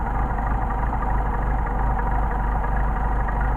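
Car engine idling unevenly and losing idle, a steady close rumble that sags and wavers without a break, with no talk over it.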